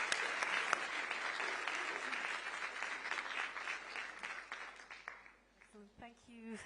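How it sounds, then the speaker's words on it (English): Conference audience at a global partnerships closing session giving sustained clapping that fades, then a voice speaks over the last moments. "Please join me in giving wonderful applause to the great Zoisa Northbond."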